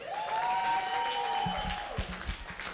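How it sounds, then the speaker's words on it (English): An audience at a law school alumni reunion and industry night applauds, a dense burst of clapping with a faint high tone ringing over it and a few low thumps near the end. "You can clap for his mentioning the fact that he will donate, and then you can extra clap for his announcement of the amount"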